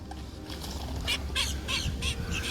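Several birds call in short bursts outdoors near a large alligator, a loose chorus of squawks over a low steady background rumble.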